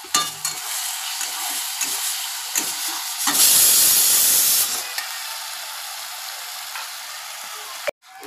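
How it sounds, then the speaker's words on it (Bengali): Frying in a wok as more oil is poured in, a steady sizzle with stirring scrapes that bursts into a loud, hissing surge for about a second and a half before settling back, ending with a hard knock. "কড়াইতে আর একটু তেল দিয়ে দিলাম"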